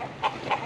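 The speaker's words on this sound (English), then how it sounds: "So we've already caught 4 roosters" Farm-raised roosters give two short clucks close by, about a quarter second apart, over a soft background hiss.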